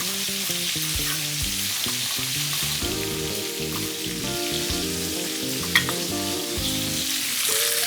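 Sliced red onion and garlic frying in a pan, a loud, continuous sizzle close by, with clinking utensil strikes and stirring noises layered over it and no talking.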